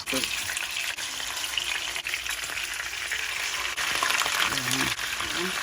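Fish laid into a hot pan with red curry paste sizzles and fries in a steady, close hiss that carries through the whole stretch, with a voice speaking briefly over it.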